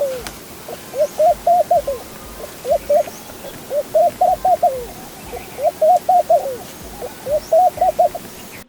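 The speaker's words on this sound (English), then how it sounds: "There are some occasional doves which are coming and going." Doves coo from an underground bird hide, a series of repeated soft, rhythmic cooing phrases in short bursts, fairly close and clear over low background noise.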